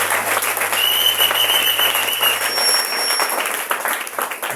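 Applause with some cheering from a congregation at a French-speaking church service, steady, dense and loud throughout, with a few whistle-like shouts over the clapping.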